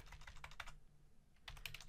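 Fingers type on a computer keyboard while entering text in a Microsoft Word document, quick close clicking keystrokes in two bursts separated by a short pause, fairly quiet.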